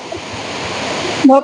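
Aruvikkuzhi waterfall in Pampady, Kottayam pours with a steady, loud broadband rush, and a voice briefly cuts in over the water near the end.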